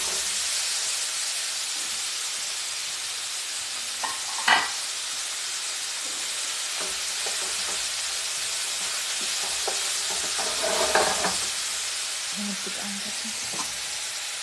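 Figs caramelizing in a pan alongside pork chops give off a steady sizzling hiss with occasional stirring clinks, alone, with no one speaking.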